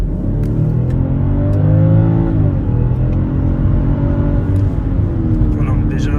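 A 2022 BMW X5 Hybrid in sport mode accelerates with a loud, steady engine drone that rises in pitch and then drops at a shift. Someone talks over the engine.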